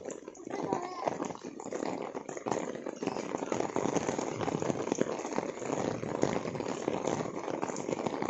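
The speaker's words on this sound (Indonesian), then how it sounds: "Tambah gede hujannya." Steady heavy rain pours down outdoors in a continuous dense hiss, with voices talking faintly beneath it.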